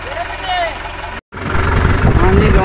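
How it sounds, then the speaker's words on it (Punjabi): Two tractors, a Sonalika 60 and a Mahindra 575, run together in a farm field with a cultivator, a low steady engine rumble beneath loud nearby talking, with a brief dropout midway. "ਦੋਵੇਂ ਟਰੈਕਟਰ ਚੱਲਣ ਲੱਗੇ ਆ ਇਕੱਠੇ ਹੀ"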